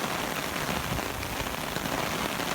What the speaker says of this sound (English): Water gushing from his driveway.